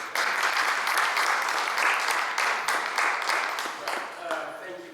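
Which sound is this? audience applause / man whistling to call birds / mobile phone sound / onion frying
audience applause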